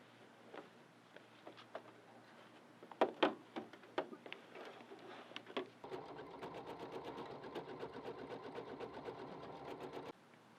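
An embroidery sewing machine stitching applique bars, with a few separate clicks and knocks, then a rapid, even mechanical needle chatter running steadily for several seconds before it stops, close and quiet.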